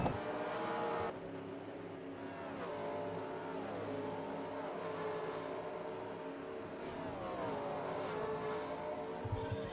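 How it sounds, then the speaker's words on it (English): Stock cars roaring around the track at a NASCAR Sprint Cup race, the 2014 Toyota Owners 400, with a continuous loud engine drone and pitch sweeps as cars pass by, no talking. "they just went by the 48, Jeff Gordon, Matt Kenseth, they all went by"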